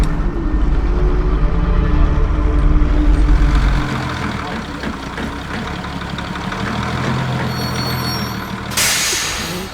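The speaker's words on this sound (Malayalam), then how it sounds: "എനിക്ക് പോകാനുള്ള വണ്ടി വരുന്നുണ്ട്" A heavy truck arrives up close, its engine rumbling low and loud before easing off, then a sharp hiss of air brakes bursts out near the end, with voices faintly in the background.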